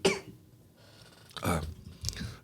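Two or three close, rough coughs from a person, one at the start and a pair near the end, separated by quiet room tone, with no clear speech.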